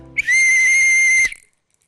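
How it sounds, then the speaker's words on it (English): A single shrill whistle blast sounds close and loud for about a second, steady in pitch, then cuts off sharply into silence. "And then we have their whistles."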